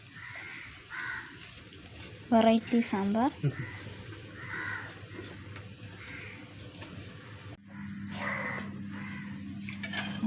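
A crow caws several times in quick succession, loud and nearby, amid a person talking throughout while making sambar.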